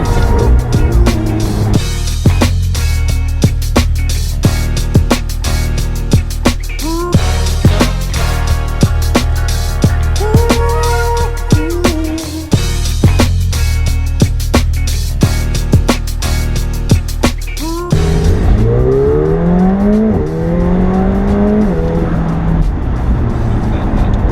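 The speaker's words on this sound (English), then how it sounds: "The exhaust is getting better, the gear shifts are getting better" A McLaren 720S V8 accelerates hard, its exhaust roaring loud and close through rising revs with sharp gear shifts and crackles, then dropping to a lower throb near the end.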